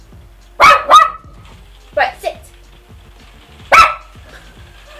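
A rain-scared dog barks sharply indoors while it rains, a few loud close barks spaced out with someone speaking commands between them.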